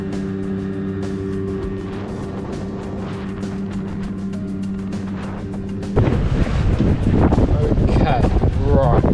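A Quicksilver 450R RIB boat with a 50HP Mercury two-stroke outboard runs at sea, first a steady droning engine hum, then loud wind buffeting and splashing hull noise as it speeds up.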